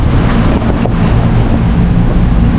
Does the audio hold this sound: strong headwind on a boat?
yes